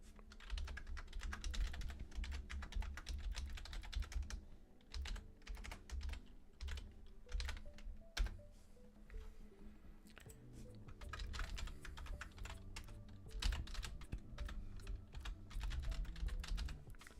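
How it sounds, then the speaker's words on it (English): Typing on a computer keyboard during a game development session, rapid irregular clicks and key taps running continuously and close up, with brief pauses between bursts and no talking. "Sorry that I'm just typing in silence."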